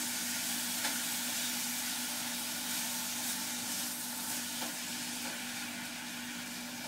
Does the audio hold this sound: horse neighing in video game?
no